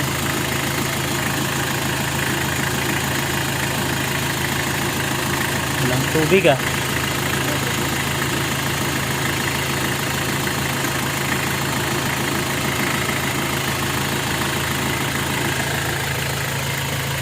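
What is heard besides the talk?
van engine idling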